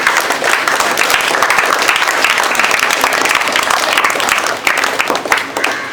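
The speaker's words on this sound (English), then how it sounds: "You can clap." Audience at a motivational talk applauding, a dense steady wash of many hands clapping for about six seconds with no break, loud and close.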